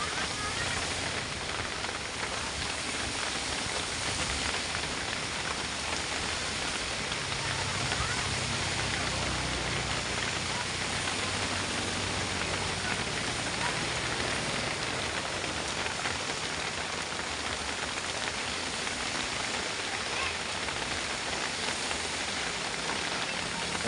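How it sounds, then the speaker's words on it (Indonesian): Heavy rain pours steadily on a slippery road where trucks and cars pass slowly in fog, a dense, loud, continuous hiss of rainfall with no pauses. "Hujan deras."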